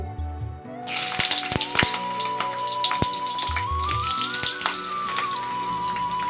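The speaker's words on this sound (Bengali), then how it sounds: "তেল বেশ গরম হয়ে উঠেছে এখন আমি একটা একটা করে ঝিঙ্গা দিয়ে ভেজে তুলে নেব" Ridge gourd pieces frying in hot oil, a steady close sizzle with crackling pops and a few sharp clinks of a utensil against the pan, beginning abruptly and holding loud throughout.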